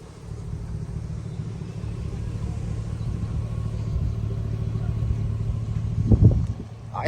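Lifted 2002 Chevrolet Silverado 1500 2WD with a 6-inch lift kit on a test drive, a steady low engine rumble and road drone throughout, swelling slightly near the end.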